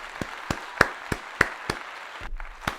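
Sharp hand claps in a steady rhythm, about eight crisp, fairly close smacks spaced roughly a third of a second apart, with a brief rustle between them.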